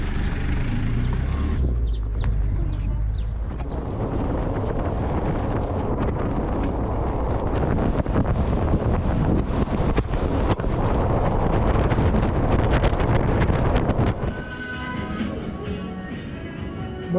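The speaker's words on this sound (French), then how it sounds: "le vent s'est levé sans prévenir" Strong gusting wind buffets the microphone on Sao Nicolau island, a steady roaring rush that swells and eases for most of the stretch before dropping to a calmer hiss near the end.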